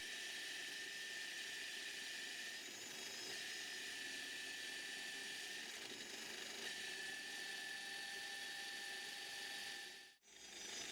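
A Scheppach bench drill press runs a 5.5 mm bit into soft 1050-grade aluminium, giving a steady whirring, grinding drone that holds for about ten seconds and then stops abruptly, with no talk.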